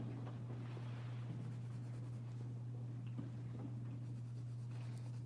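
A salmon pink colored pencil scratches softly across paper, a faint, steady scribbling texture under a constant low hum, with no talking.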